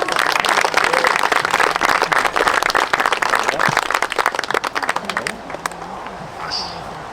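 Wedding guests applaud after the couple's vows, a dense wash of clapping that carries steadily and then thins out near the end, with voices talking underneath.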